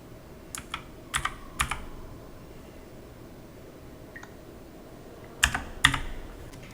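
Keys tapped on a computer keyboard while entering a one-time passcode for an Aadhaar card download, a few quick clusters of close clicks separated by pauses over a quiet background hum.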